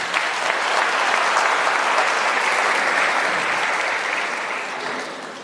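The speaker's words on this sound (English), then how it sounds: "I want us to give a round of applause to the police officers who are committed to service" Sustained applause from an audience honoring police officers at a ministerial crime prevention imbizo in Knysna, Western Cape, steady and dense throughout, fading slightly at the end.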